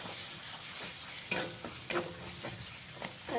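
Spice masala with sugar and dried fenugreek leaves stirred in a frying pan for an egg masala curry, a steady soft sizzle broken by a few sharp spoon scrapes and knocks against the pan.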